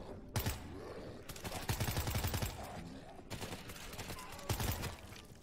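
Gunfire in the video game World War Z, several heavy bursts of rapid shots in repeated volleys over constant game noise, fairly loud and close.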